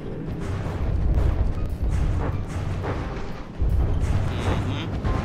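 Enemy ship gunfire in a From The Depths naval battle, a dense run of deep booming shots and rumbling blasts that rolls on for several seconds with brief lulls, loud and close.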